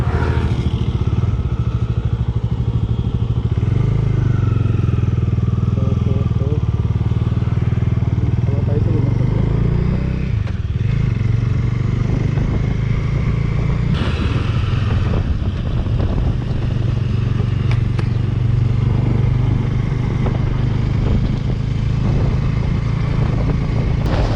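A motorcycle ride toward the hilltop of Mallayya Konda near Thambalapalle, Madanapalle, with a steady engine drone, wind buffeting the microphone and occasional clatter throughout, loud and close.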